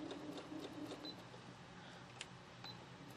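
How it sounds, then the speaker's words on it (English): Sewing machine stitching a quarter-inch seam in quilting fabric, a faint, steady mechanical whir with a few soft ticks, no talking. "now we're going to sew down that with our 1/4 inch seam allowance"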